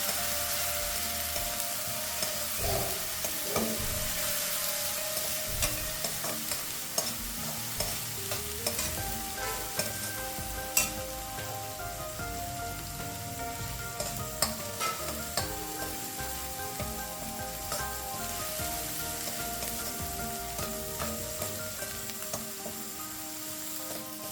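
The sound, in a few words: sautéing rajma masala ingredients in pan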